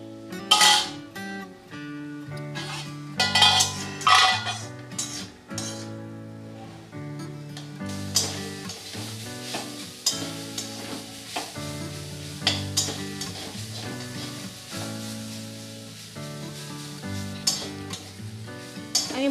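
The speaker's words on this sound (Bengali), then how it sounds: "এবার আমি গ্যাসের আঁচটা বাড়িয়ে দেব, দিয়ে শাকটা ভালো করে ভাজা ভাজা করে নেব।" Radish greens fry and get stirred in a hot pan, giving a steady sizzle with scraping and clinking of a spatula against the pan, all under continuous background music.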